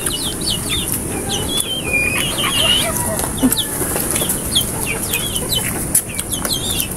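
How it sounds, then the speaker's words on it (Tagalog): Many chickens, including young chicks, cluck and chirp in a busy chorus, with scattered wing flaps and a rooster-like call amid constant farmyard noise. "Dami yung manok dito"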